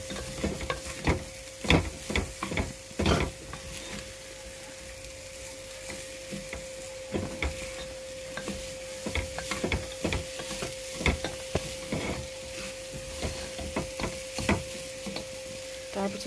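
Zarda sweet rice with sugar being stirred in a pan, with frequent scraping spoon strokes over a low continuous sizzle and a steady hum, close by, with no talking.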